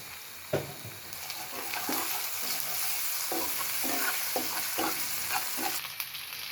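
Ginger and garlic paste fries in a pan, producing a steady sizzle broken by regular scraping strokes of a spatula, close and alone.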